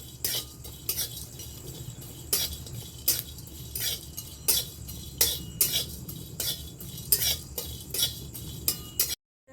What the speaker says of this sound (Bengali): জিরাটাকেও ভেজে নিচ্ছি